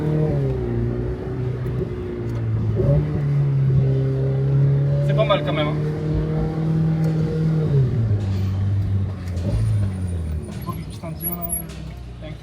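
A rented Lamborghini or Ferrari sports car engine drones and revs steadily while driving, the pitch rising and falling through gear changes, with people talking over it inside the cabin.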